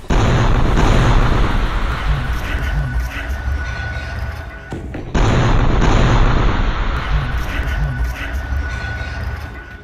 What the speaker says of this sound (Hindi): ये बुलडोजर अचानक फट जाता है, जिसमें बहुत बड़ा धमाका होता है।